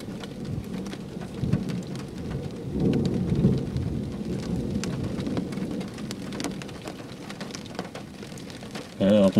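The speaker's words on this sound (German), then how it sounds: "Warum ist der Donner gar nicht mal so laut?" Rain falls steadily in an open field during a thunderstorm, with low rumbling thunder rolling under the downpour and no sharp, loud crack.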